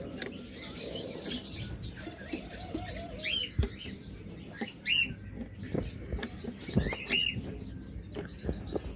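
Caged tame pet birds, with lovebirds kept nearby, chirp and tweet in short, scattered calls against a busy room background, faint and close, with no clear talking.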